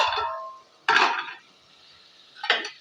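A metal lid is lifted off a cooking pot and set down, giving a few short clinking clatters at close range, with brief pauses of quiet between the knocks.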